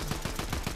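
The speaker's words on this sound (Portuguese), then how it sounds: "Olha, eu ouvi que tá tendo tiro pra cá." Rapid gunfire from the Fortnite video game, a dense burst of repeated shots in quick succession at a steady rhythm, loud and close with no speech.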